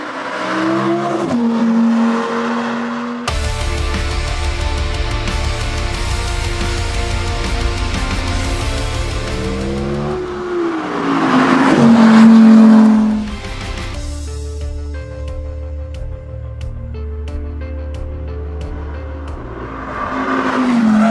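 A 2023 Audi R8 Performance's exhaust revs repeatedly, the engine note climbing and falling in loud bursts with crackles between, close and powerful.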